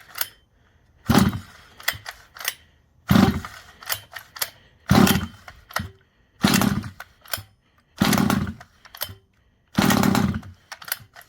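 The small gas engine of a 1/5 scale Rovan Baja 5b RC car sputters to life in short, loud bursts of about a second each, six or so separated by quiet pauses, as if it keeps catching and dying.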